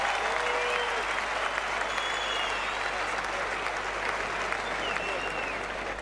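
A tennis crowd applauding steadily with scattered whistles rising above the dense, continuous clapping throughout; a voice speaks faintly underneath.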